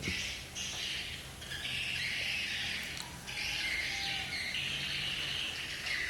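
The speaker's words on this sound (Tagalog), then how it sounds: "yung mga ibon hindi pa lumalabas, steady lang dyan sa loob" Swiftlet-type birds call continuously inside a three-storey farmhouse nesting building, a dense high squawking chatter in a few long waves, steady and fairly close, with no talking.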